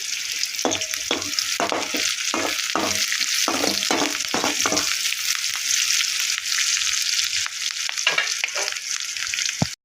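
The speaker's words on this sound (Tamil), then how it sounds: "இப்போ வந்து வெங்காயம் கொஞ்சம் வதங்கிருச்சு வதங்கட்டும்" Onions sautéing in hot oil for pepper chicken, a steady close sizzle with repeated stirring scrapes of the spoon against the pan, running continuously without talk.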